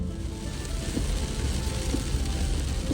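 Heavy monsoon rain drums steadily and densely on a car during a long night drive, forming a constant loud hiss with a low road rumble beneath.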